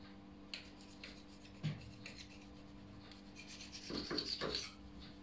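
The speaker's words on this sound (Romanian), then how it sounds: "Și acum venim și tăiem bucăți." A knife saws through cozonac sweet bread, cutting it into long pieces with faint, soft rasping strokes, quiet and close, with a slightly busier stretch of cutting toward the end.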